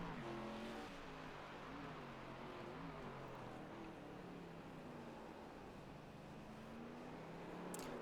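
An ARCA stock car runs on a wine-country road course, its engine a steady droning roar with rising and falling pitch as it works through gears and corners, heard at moderate distance without voices.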